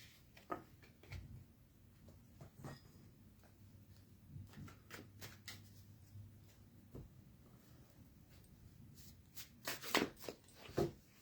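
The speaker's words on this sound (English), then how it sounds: "So I'm just going to put away these cards and thank them." Tarot cards being gathered and put away, soft shuffling, tapping and sliding handling sounds that are quiet and sporadic, ending in a louder flurry of card handling close by.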